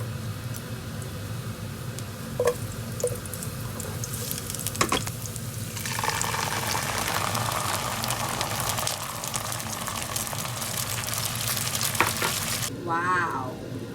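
Sardines mixed with beaten egg fry in hot oil in a pan, a loud continuous sizzle and crackle close up, swelling after a few seconds, with clinks and stirring scrapes and a brief splash near the end.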